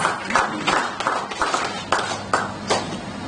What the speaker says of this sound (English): Please give Nigeria a round of applause.